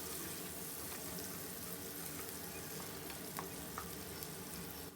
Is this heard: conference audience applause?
no